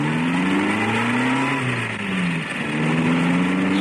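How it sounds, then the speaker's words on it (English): A car engine revs and its pitch slides down and back up as the vehicle pulls away, a steady close-to-mid-distance drone running unbroken for about four seconds with no talk. "Listen, that's a car. It'll be him leaving."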